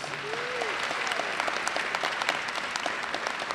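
An audience at a university honors convocation applauds a presenter, a steady, fairly distant wash of many hands clapping, with a brief vocal tone near the start.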